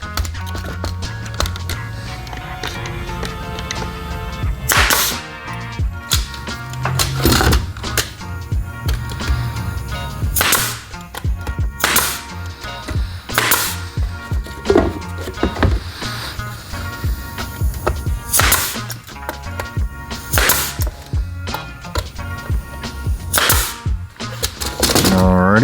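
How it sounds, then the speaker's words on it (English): Rapid, irregular sharp clacks and thumps of a staple gun driving staples to fix a cut bottom panel inside a wooden box for a DIY project, repeated close up over a low background rumble. "I'm just going to staple it in"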